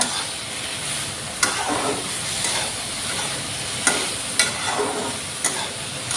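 Milk taro (dudh kochu) and fish sauté together in a pan with a steady hiss and sizzle, broken by several sharp scrapes and clatters of stirring.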